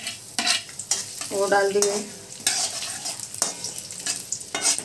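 Chopped onion, with bay leaves, sizzles and crackles in hot oil in a pan, with stirring scrapes throughout; a voice speaks briefly over the frying.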